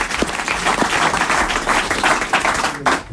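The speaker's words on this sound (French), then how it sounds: "Voilà, Gérard, on t'applaudit." A studio audience on a French television game show applauds, a lively burst of many hands clapping at close range with uneven swells and a few distinct claps standing out.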